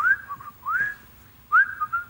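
Three short rising whistled phrases, someone imitating the casual whistling heard in toilets, a breezy, idle tune with pauses between, close and clear.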